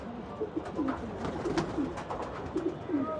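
Pigeons coo softly in a loft, several short low calls repeating at a moderate distance over a faint background hum.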